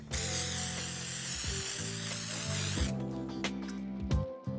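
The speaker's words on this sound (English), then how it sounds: "take your temporary spray adhesive and just spray that stabilizer real good." Temporary spray adhesive from an aerosol can hisses in one steady, loud burst onto embroidery stabilizer for about three seconds. A few faint clicks and handling sounds follow after it stops.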